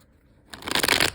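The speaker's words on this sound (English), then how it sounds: "I will shuffle the first deck just a few more times, split the deck, and then we'll begin your reading." A tarot card deck is shuffled, a brisk flurry of papery riffling that starts abruptly after half a second of quiet and continues close and loud to the end.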